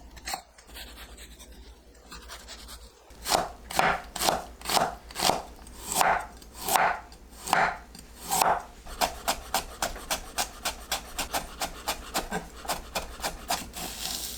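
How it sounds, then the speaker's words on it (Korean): A knife chops onion and carrot on a board for dumpling filling. After a quiet start, slow, loud, evenly spaced chops pick up into a quicker, lighter run of cuts. "양파와 당근을 다져서 준비합니다."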